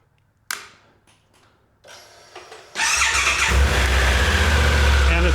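A 2023 Triumph Tiger 1200 Rally Explorer motorcycle cranks briefly on the starter, then catches and settles into a steady, loud idle, heard up close.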